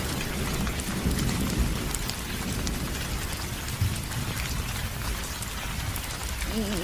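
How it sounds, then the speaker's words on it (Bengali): Heavy rain pours steadily onto a roof, a dense, unbroken hiss and patter that stays loud and even from start to finish with no voices. "বাহির থেকে বৃষ্টির ঝমঝম শব্দ শোনা যাচ্ছে।"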